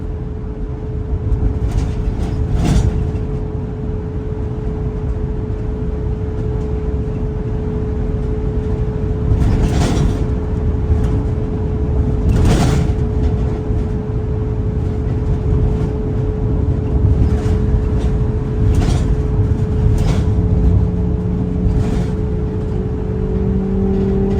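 A box truck engine runs steadily after a tune-up, a continuous loud drone with a sustained hum from inside the moving vehicle and no talking.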